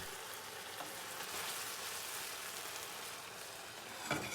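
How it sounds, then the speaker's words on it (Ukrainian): Steady, dense sizzling of meat frying in hot oil, continuous and close, with a brief louder crackle near the end. "На олії обсмажуємо м'ясо."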